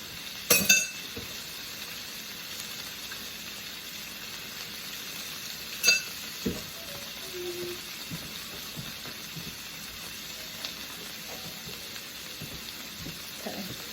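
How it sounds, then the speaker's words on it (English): Bacon frying in a pan: a faint, steady sizzle, with a few soft clinks of a utensil against the pan. "the bacon's going to cook up crispy, and that cheese is going to melt"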